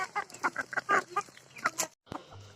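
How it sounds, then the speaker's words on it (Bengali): Village poultry-farm chickens give a close run of short, choppy clucks, with a brief pause before one more cluck; ducks are also kept on the farm. "এখানে দেখতে পাচ্ছেন যে হাঁস মুরগি সবই আছে"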